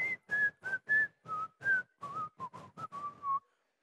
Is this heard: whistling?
yes